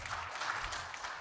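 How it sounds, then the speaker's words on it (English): Audience applauding in a conference hall at a regional meeting of anti-corruption agency heads, a steady, even patter of many hands clapping throughout, moderately distant and fairly quiet. "Another round of applause, please, for Mr. Stephen."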